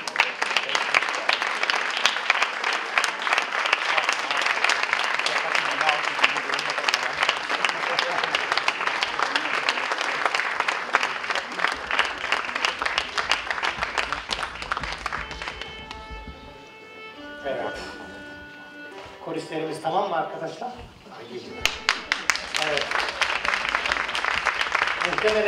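Audience at a choir concert in Berlin applauds loudly and steadily, a dense wash of clapping that dips briefly near the end while a voice speaks over it.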